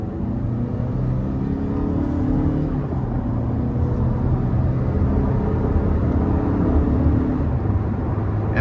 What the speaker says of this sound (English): So we'll put that ECT power on, give it some throttle here.